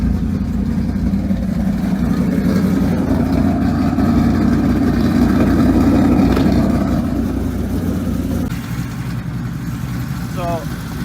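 A Ford Mustang's 4.6L 2V V8 with rod knock runs loud and steady, its engine roar swelling into a rev near the middle before settling back. A person talks briefly over the engine noise.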